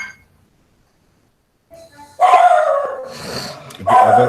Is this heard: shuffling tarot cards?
no